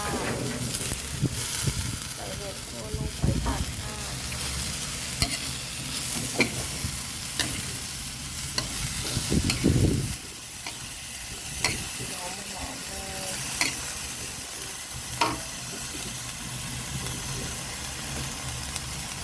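Minced pork and chili stir-fried in a hot wok for Thai basil termite mushrooms, with steady loud sizzling and hiss broken by repeated scraping and clacking of a spatula, continuous and close throughout.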